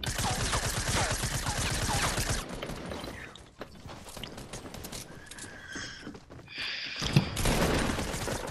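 Rapid bursts of gunfire from a gun in Fortnite, a dense loud volley at the start, then scattered shots and game effects, with a second burst near the end.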